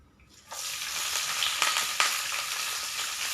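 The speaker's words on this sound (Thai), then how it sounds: "เราจะทำเป็นกระหล่ำปลีผัดน้ำปลา" Cabbage stir-frying with fish sauce in a pan gives a loud, steady sizzle that bursts in after a quiet start, with a couple of sharp stirring clatters.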